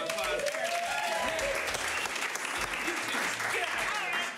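An audience gives a steady round of applause for the winner and runners-up at a showdown event, dense clapping sustained throughout with some voices mixed in.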